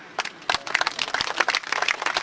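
At a history festival combat display, scattered audience members break into light, uneven clapping, a handful of separate claps rather than full applause, close and brief.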